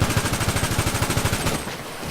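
Compact rifle fire in GTA 5, a rapid automatic burst of evenly spaced shots for about a second and a half, loud and close, then cutting off into a brief ringing tail.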